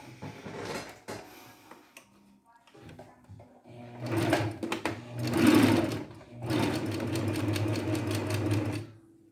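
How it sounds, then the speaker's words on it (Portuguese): A sewing machine runs a second seam on a short-sleeved blouse in several bursts of rapid mechanical stitching, close and loud, with brief pauses and soft handling noises between runs. "Vou fazer a segunda costura, que agora é com 1 centímetro."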